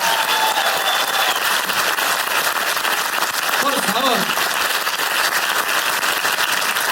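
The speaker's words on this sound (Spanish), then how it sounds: "Nos vamos al aplauso para estos dos monstruos." A live studio audience applauds two performers, a thick, constant clapping roar filling the whole stretch while a voice briefly speaks and a short tonal sound rises over it midway.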